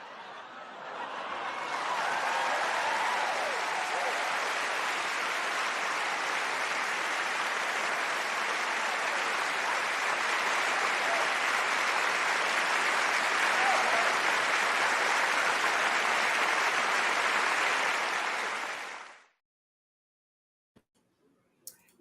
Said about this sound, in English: let me go ahead and give you your soul clap